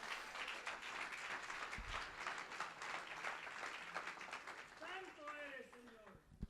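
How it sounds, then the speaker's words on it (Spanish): Church congregation applauding for the Lord after a sermon line, a broad clapping wash mixed with voices and cheers, steady through most of the span and thinning near the end as a voice rises. "Denle un aplauso fuerte al Señor."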